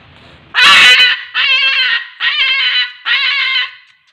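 A cockatoo calls loudly at close range, four harsh screeching squawks in a row, the first the strongest, each about half a second long with brief gaps between.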